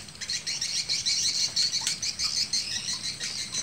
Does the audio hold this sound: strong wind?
no